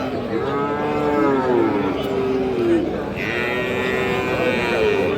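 A long, loud moo comes from a bull calf at a crowded cattle market in Raniganj, Bangladesh. It rises and then falls and carries clearly over the general market hubbub, with voices faint in the background.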